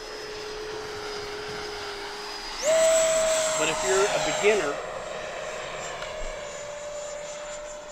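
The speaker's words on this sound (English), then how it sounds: "instead of a prop, you got a big old turbine through the middle" An FMS 80mm F-86 Sabre RC jet flies overhead with a steady, high whine that jumps sharply in pitch and loudness partway through, then holds. Someone talks over it.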